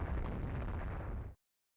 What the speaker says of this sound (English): They are starting to launch large shells at our heavy cruisers.